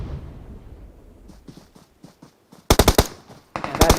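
Gunfire in the PUBG Mobile video game on the Livik map during a tournament match, with scattered distant shots, then two loud close bursts of rapid automatic fire.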